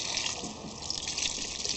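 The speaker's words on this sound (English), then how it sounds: "cool water, cool low pressure water from the outside, inside out." Cool, low-pressure water rinses a K&N air filter from the inside out, a steady, close hiss and patter of running water with no pauses.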